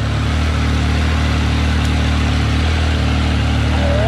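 A Triumph Speed Triple 1200RS with an SC Project CRT muffler sits running, its steady low engine drone holding evenly throughout at close range, alone with no talk.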